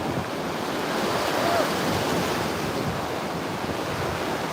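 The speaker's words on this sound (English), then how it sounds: "But we are at the beach." Ocean surf at the beach rolls as a steady, broad wash of waves, with gusty wind buffeting the microphone and no clear voices.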